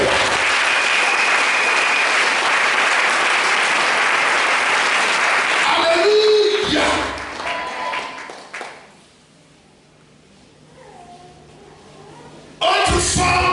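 Church congregation at a worship service applauding, a dense, loud wash of clapping for about six seconds that fades into quieter scattered clapping and room noise, with voices coming in near the end.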